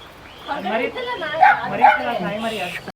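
A dog gives a run of close, high yips and whiny barks, several short calls in quick succession.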